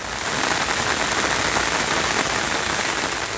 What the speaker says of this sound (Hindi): सिर्फ बारिश की आवाज है और चारों तरफ सब कुछ खुद में समेटे हुए पानी